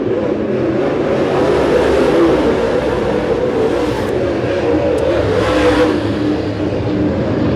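Race cars lapping at Winston Speedway, a continuous loud engine roar that swells and fades slightly as cars pass, with no voices.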